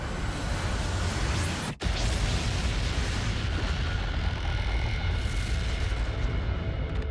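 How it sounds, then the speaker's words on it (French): A deep, sustained roar of broadband noise fills the whole stretch, like a continuous explosion rumble, with a brief dropout partway through. "L'explosion disperse le nuage de poussière et de roches"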